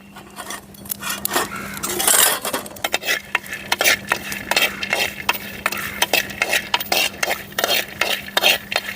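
Peanuts frying in a pan while being stirred, rapid repeated scraping and rattling of the nuts against the metal over a low sizzle, close and fairly loud, with no speech.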